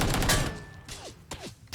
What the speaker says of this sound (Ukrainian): Та по нам стріляють же просто.